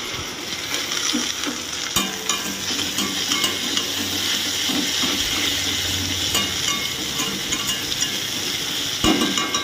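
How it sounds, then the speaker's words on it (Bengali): Potatoes sizzle loudly in a hot kadai as a spatula scrapes and knocks against the metal, a dense steady frying hiss with occasional sharp clinks. "আলুগুলো সব দিয়ে দিচ্ছি কড়াইয়ের মধ্যে"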